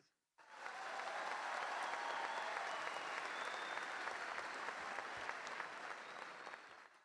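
A crowd at an assembly of coca growers' organizations in Catatumbo breaks into loud, sustained applause that holds steady for several seconds before trailing off. There is no talking over it.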